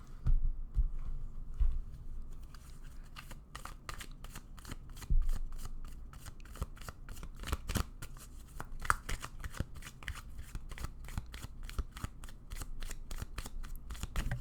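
Tarot cards being drawn and shuffled, with a long run of crisp, fast card riffles and snaps close by, building into a dense flurry of flicks over a faint low hum, with no one talking.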